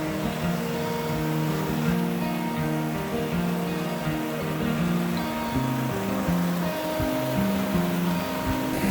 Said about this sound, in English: Yeah, that's our flash flood river.